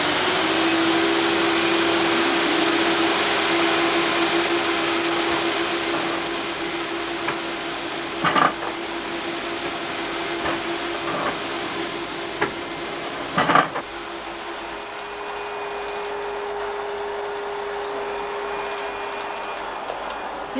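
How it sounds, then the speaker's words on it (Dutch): A vacuum cleaner runs steadily during a consumer dust pickup test, a loud continuous motor whine and airflow hiss, with a few brief clicks and knocks, and the motor pitch settling lower toward the end. "Hier wordt de stofopname van de stofzuiger bepaald."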